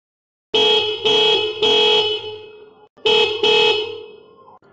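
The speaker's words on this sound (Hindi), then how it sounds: "हॉर्न चलते हैं कि नहीं" Loud dual-tone motorcycle horn honks close by: three quick blasts, a short pause, then two more, ringing bright and brassy.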